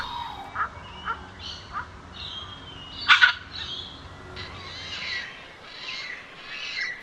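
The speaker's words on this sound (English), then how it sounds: "the red wattlebird, a pugnacious and noisy honeyeater whose vocal skills need a bit of work" Red wattlebird, a noisy honeyeater, giving a few short harsh calls over steady outdoor background noise, with a louder double burst midway among softer scattered notes.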